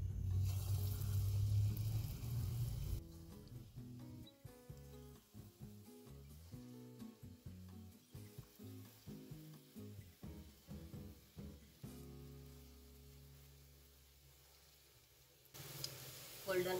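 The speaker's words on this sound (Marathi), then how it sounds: "आता आपण यामध्ये वडे तळून घेणार आहोत." Kanji vadas fry in hot oil with a steady sizzle and crackle that keeps going. A louder burst comes at the start and again near the end, with no one talking over it.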